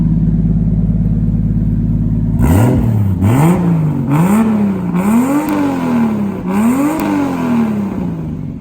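An Integra's B18A engine fires up after a steady drone and settles into idle, its note rising and falling through several throttle blips, loud and close.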